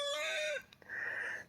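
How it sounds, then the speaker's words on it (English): Farm chickens cluck and call in a short burst: a drawn-out squawk followed by a second higher cluck, close by and fairly quiet, with no one talking. "The chickens are gonna come in there and get it now."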